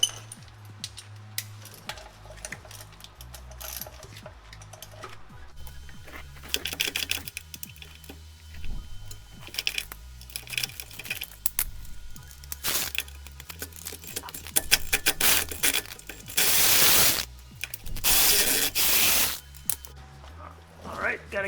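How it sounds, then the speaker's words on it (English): Drive shaft bolts come off the underside of a 2004 Dodge RAM 2500 2x4 with a ratchet, heard as scattered metallic clicks and ratcheting bursts over quiet stretches, growing louder and busier toward the end. "I'll take these 4 bolts off here, and then the drive shaft will slide out from the transmission."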